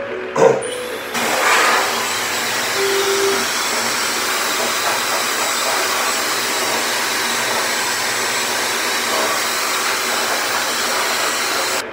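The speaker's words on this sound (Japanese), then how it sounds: "扇風機は本当に最高ですね。" A steady whooshing electric fan runs close by in an airport lounge shower room, a constant airy hum after a brief knock at the start.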